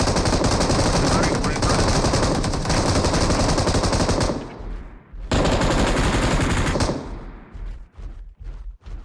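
Gunfire from the PUBG/BGMI mobile video game, loud rapid automatic bursts that run continuously for several seconds, break off briefly, then resume and trail into scattered shots.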